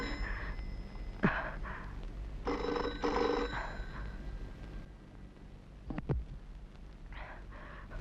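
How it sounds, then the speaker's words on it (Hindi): An old telephone in a 1983 Hindi film rings in repeated bursts of trilling bell tone separated by short pauses, fairly close and clear with no talking over it. "टेलीफोन बजने दो।"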